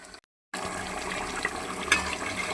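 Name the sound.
water poured into chicken biryani masala in pot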